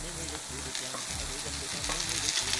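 Tomatoes dropped into sizzling spice masala for crab roast, with a short burst of dense frying crackle and stirring scrapes, close and fairly loud.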